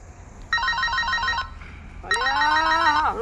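A telephone rings indoors in two loud electronic bursts separated by a short pause, close and clear with no talking over it.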